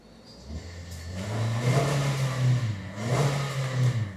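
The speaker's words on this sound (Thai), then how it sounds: "เดี๋ยวผมขออนุญาตเล่นเครื่องหน่อยคุณผู้ชมครับ" A Toyota Veloz 1.5 engine (2NR) revs while stationary, climbing from idle to about 4,000 rpm and then holding a steady, raised rumble with slight rises and dips.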